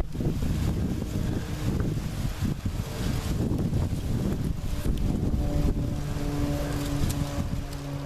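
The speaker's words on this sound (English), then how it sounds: "Hear that something moving in there, or the wind's blowing," Strong wind buffets the microphone in heavy, continuous low gusts, rumbling and roaring throughout with no talking.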